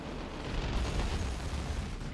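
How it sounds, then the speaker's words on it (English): A las cannon shot from the Dawn of War 2: Retribution strategy game lands with a heavy, rumbling explosion that sustains as a dense low roar for about two seconds. "Another las cannon shot going in."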